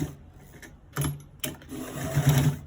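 A sewing machine stitches a roll-collar V-neck seam at close range in short bursts, fast whirring runs starting and stopping with pauses and clicks between them.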